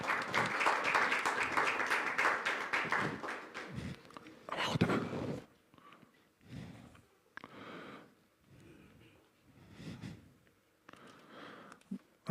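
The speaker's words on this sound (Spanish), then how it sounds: "Un aplauso, por favor." Audience applause at an academic lecture, a burst of dense clapping for about four seconds, then scattered, fading patches of sound.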